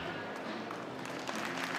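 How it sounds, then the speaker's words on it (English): Oklahoma fans applaud at Love's Field during a college softball game against Wichita State, a continuous crackle of crowd clapping heard under a commentator's voice. "gets a round of applause from the Oklahoma fans here at Loves Field"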